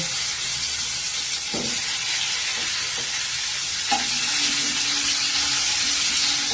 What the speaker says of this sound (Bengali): আমি কড়াতে তেল গরম করতে বসিয়ে দিয়েছি। এবার আমি পটলগুলোর মধ্যে নুন হলুদ মাখিয়ে রেখে দিয়েছিলাম, তো এগুলোকে আমি এবার আস্তে আস্তে ভাজতে দিচ্ছি।